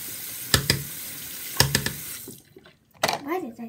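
Water runs steadily from a bathroom tap during shaving, a hiss broken by a few sharp clicks and taps, then the flow is shut off and a voice speaks briefly.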